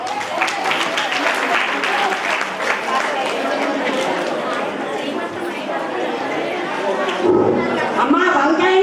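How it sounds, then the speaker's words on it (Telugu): An audience at a baby shower ceremony for five pregnant women applauds steadily and close for the whole stretch, with crowd chatter and voices mixed throughout. "చప్పట్లు"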